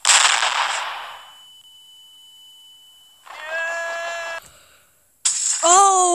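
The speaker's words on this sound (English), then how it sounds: "You know what? Let's flashbang this area." A flashbang grenade goes off in a video game as a loud, harsh burst, then a long, steady high-pitched ringing hangs alone before voices come in near the end.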